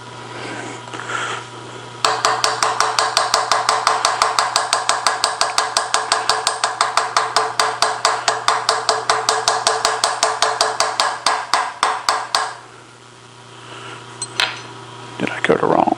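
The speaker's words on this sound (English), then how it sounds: "what we're going to do is take our aluminum hammer" An aluminum hammer strikes rapidly and repeatedly against a milling head adapter on a 90-degree milling head to break it loose, a long run of sharp metallic knocks under a steady machine hum, then quieter handling afterward.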